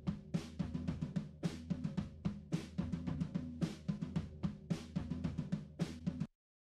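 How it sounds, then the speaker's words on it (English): A drum room microphone track heard solo, with a steady pattern of roomy kicks, snares and cymbal hits in an ambient space, loud and even, ending abruptly. "The drum room track on its own sounds like this."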